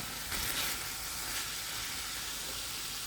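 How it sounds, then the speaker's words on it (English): Korean spicy chicken stir-frying in sauce in a pan, an even close sizzle with a brief louder burst near the start, steady and unbroken, no voices. "And now it's turning into more of a stir fry, which is exactly what you want on this"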